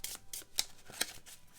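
Cardboard GI Joe Mission Critical game tokens being shuffled by hand on a table, a few quick papery riffling bursts separated by short pauses, close and fairly quiet.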